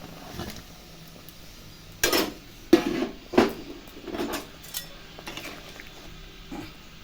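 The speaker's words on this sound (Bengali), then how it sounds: "আমার ঝোলটা টকবক করে ফুটে এসেছে এখন আমি মাছগুলা ছেড়ে দেবো" Pieces of rui fish splash and clatter one by one into a pot of bubbling fish curry, several distinct close knocks and plops spaced a second or so apart over a faint simmer.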